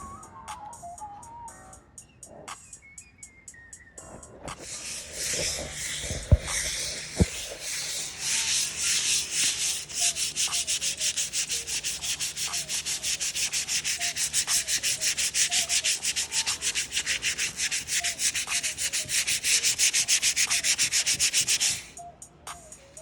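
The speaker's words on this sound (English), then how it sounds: "I'm sanding it. Still got to do some more sanding" Hand sanding of body filler on a 2021 Hellcat front bumper rasps back and forth in quick, steady strokes for a long stretch, loud and close, after a few quieter scrapes and knocks at the start.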